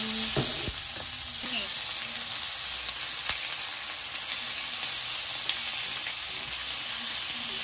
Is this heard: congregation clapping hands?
no